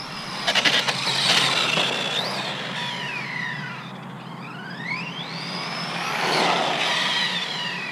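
Small Outcast 4S RC car on Scorpion belted tires accelerating hard out of a turn, its electric motor whining up and down in rising and falling sweeps, close and fairly loud, with no talking.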